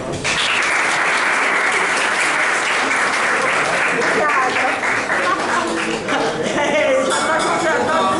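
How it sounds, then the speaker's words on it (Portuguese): An audience at a school mathematics event breaks into loud, sustained applause, a thick continuous clatter of hands, with voices talking through it toward the end. "Cadê as palmas?"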